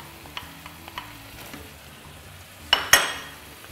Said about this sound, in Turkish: Kıymamız soldu. Soğanımızı içine ilave ediyoruz.